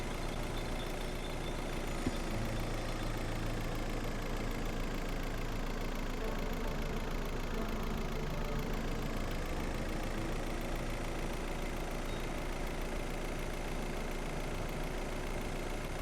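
Steady, droning car engine while driving in the video game Schedule I, a continuous mid-pitched hum with little variation and no speech.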